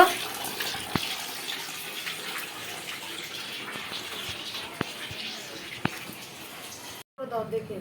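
Tap water runs steadily into a kitchen sink while dishes are washed, a close continuous gush with a few knocks of utensils, ending abruptly before a voice speaks briefly.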